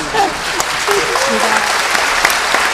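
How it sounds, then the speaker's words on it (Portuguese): A lecture audience applauds, with steady close clapping throughout and faint voices underneath. "Obrigada pelas palmas, que eu já me sinto incentivada sem elas"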